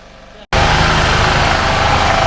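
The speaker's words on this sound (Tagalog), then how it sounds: "dito tayo kumukuha ng kuryente sa generator. Ayan. Umaandar na." A gasoline-powered generator, fueled, fitted with a battery and warmed up, for a procession in Pulilan, Bulacan, kicks in after a brief gap and runs as a loud, steady, close engine drone.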